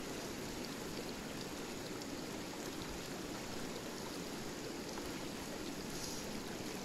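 River current with bubbles on the upper Verdon, a steady broadband rush of flowing water that stays loud and unbroken from start to finish, with no voices.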